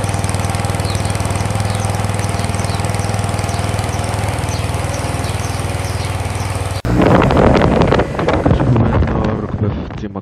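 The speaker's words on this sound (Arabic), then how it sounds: "ودابا غادي نخرجو باش نضربو الموتور." A Yamaha TMAX DX maxi scooter engine runs at a steady, even drone for several seconds, close up, then heavy wind buffeting and rustling noise take over.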